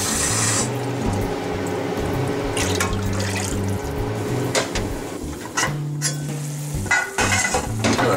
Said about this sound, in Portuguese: Vamos agora juntar a água e cozê-la por 5 minutos.